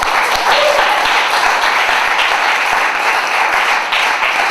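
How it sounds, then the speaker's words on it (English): A live audience at a monologue slam event applauds the panel, with dense, steady clapping that holds at full strength for several seconds, loud and close, with no talking over it. "give a round of applause for our panel"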